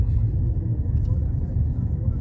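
A car drives along a road with a steady, loud low rumble of engine and road noise throughout, and no other sounds stand out.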